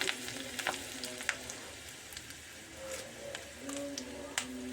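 Mustard seeds, fenugreek and chili crackle and sizzle in hot oil for Pulissery, a steady close frying hiss dotted with sharp little pops, while a person talks quietly over it.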